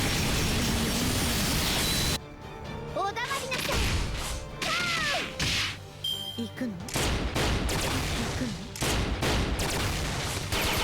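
A character's gun firing during a Fate/Grand Order battle: loud bursts of shots and sharp impacts in quick clusters, layered with game effects and music.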